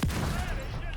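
A mortar round in a video game lands with a sudden, heavy boom at the very start, then a rumbling tail fades under a voice talking.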